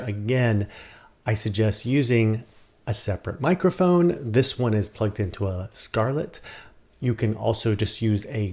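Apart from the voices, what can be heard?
None of the usual background noises is heard.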